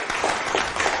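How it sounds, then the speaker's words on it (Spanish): Audience applause for a guest artist on a Latin swing music TV show, a brief burst of many hands clapping together, fairly loud and steady. "Un aplauso para ella, duro, duro."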